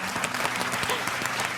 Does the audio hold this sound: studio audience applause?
yes